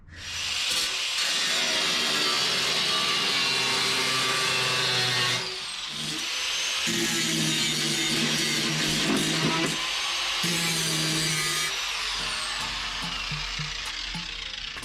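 A hand or power saw cuts out a square piece in three long, loud, harsh bursts of rasping strokes, separated by short pauses, close to the microphone with no speech.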